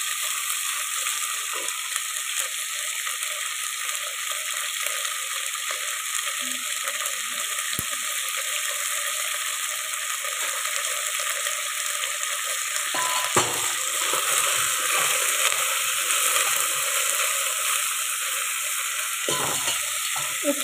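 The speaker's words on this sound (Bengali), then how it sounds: "একটু ভাজা ভাজা হোক," Vegetables for a veg biryani sizzle steadily in hot oil, a continuous close frying hiss with occasional soft scrapes of stirring and no voices.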